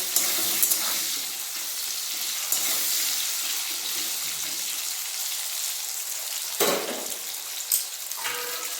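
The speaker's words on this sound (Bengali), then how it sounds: "আলুতে লবণ দিয়ে দেবো এরপরে ভালোভাবে ভেজে নেব" Salted potato pieces frying in a pan with broccoli, a steady soft hiss of sizzling oil throughout, with a few louder scraping stirs near the start and end.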